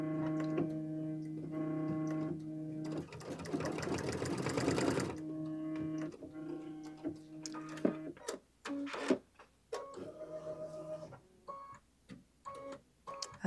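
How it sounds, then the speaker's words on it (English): A sewing machine sews a collar placement stitch in close, mechanical runs with a steady hum and rapid ticking, including a louder whirring burst, then stops and starts in shorter spurts with clicks between. "That's going to do the collar placement stitch."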